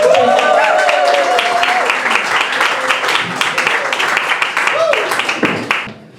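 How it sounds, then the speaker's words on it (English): Audience applause fills a stage conversation event, dense steady clapping from a crowd that stays loud throughout before tapering off at the end, with some background voices mixed in. "Let's give him a round of applause."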